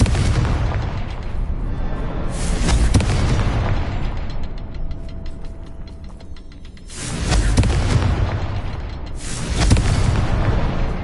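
A Confringo fire spell blasts in Hogwarts Legacy on PS4 as loud booming explosions, two big bursts several seconds apart over steady game ambience and rumble, with no talking.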